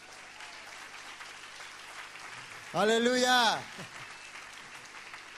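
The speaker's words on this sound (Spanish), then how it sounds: "Dale un fuerte aplauso." Steady applause from a church congregation runs throughout at moderate level, with one voice calling out loudly over it partway through.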